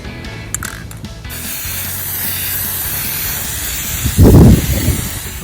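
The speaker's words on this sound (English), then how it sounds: "So now it's time to do the frosted spray" A steady broadband hiss of frosted spray paint on cabinet doors runs throughout, with a louder, closer burst of spraying near the end.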